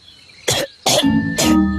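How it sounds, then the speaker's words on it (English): The cartoon character Gaston coughs three times in quick succession, close and loud, each a harsh throaty burst, with the last one dragging into a rough, voiced rasp. "Gaston's coughing."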